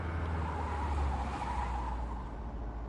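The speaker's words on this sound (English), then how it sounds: "And you can do handbrake turns as well." A truck in Truck & Logistics Simulator swings through a handbrake turn, tires skidding with a sustained rough squeal over a low engine rumble that eases off toward the end.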